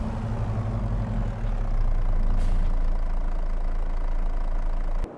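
Truck engine idling in a farming simulator game, a steady low rumble with a slight rise in level partway through, running alone without talk before cutting off at the end.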